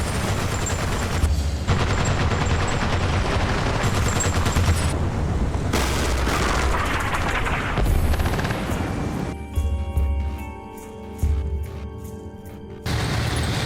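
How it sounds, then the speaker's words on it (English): Dense bursts of machine gun fire, explosions and armored combat rattle through a forest battlefield in the Armored Brigade II war strategy game, loud and nearly continuous with sharp staccato volleys near the end. "my men hose down that area of the forest with machine gun fire"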